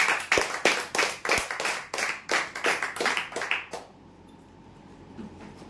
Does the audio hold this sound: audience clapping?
yes